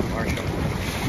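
Strong wind buffeting a boat escorting an open-water swim on Lake Michigan between Evanston and Chicago, a constant roar of gusts and microphone wind noise with water sloshing underneath.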